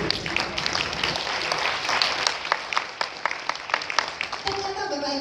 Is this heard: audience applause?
yes